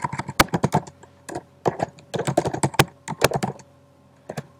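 Someone types an email address on a computer keyboard, a quick irregular run of crisp key clicks in short bursts with brief pauses, close and clear.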